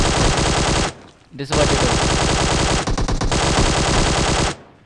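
Rapid automatic gunfire in the mobile shooter PUBG Mobile rattles in long, loud bursts, broken by a short pause and a brief gap near the end, with a voice speaking briefly over it.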